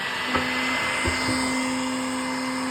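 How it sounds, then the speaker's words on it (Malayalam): A heat gun blows on the petrol tank cap of a Splendor motorcycle, giving a steady, close rushing hiss with a low motor hum that runs through the whole clip, with a couple of faint knocks. "അപ്പോൾ നമ്മൾ ഈ ഒരു ഹീറ്റർ ഉപയോഗിച്ച് ചൂടാക്കി ഒന്ന് നമ്മൾ നോക്കാം"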